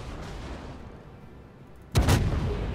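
A loud, booming naval gun blast in a warship video game erupts suddenly after a stretch of low rumbling ambience, its heavy report lingering briefly.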